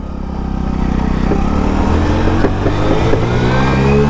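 A 2025 Hero HF Deluxe Pro motorcycle engine revs up and accelerates, its droning pitch rising steadily and growing louder, close by with no talking.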